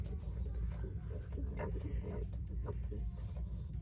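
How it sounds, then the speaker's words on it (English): A Boston Terrier pug mix snorts with rough, low, breathy bursts close by, continuous over a few seconds. "Boston Terrier pug mix. And so he snorts a lot."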